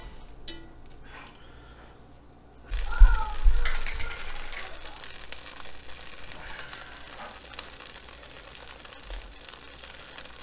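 Butter sizzles in a hot pan where Southern-fried rabbit is cooking, with onions pushed to the side; a louder burst of frying swells briefly, then settles into a steady, soft crackle.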